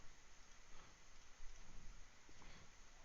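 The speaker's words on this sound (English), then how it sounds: "You could add rain." Steady rain effect in a video game after a lighting patch is installed, a soft continuous patter of drops at moderate level with faint low rumbles, no talk.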